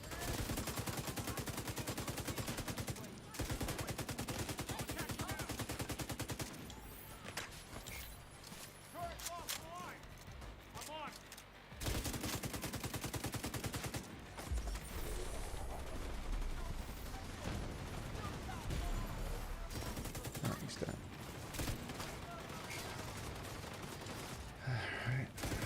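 Automated turrets in The Division 2 fire repeated rapid bursts amid heavy gunfire, loud and close, breaking off and resuming in stretches while a voice talks over the shooting.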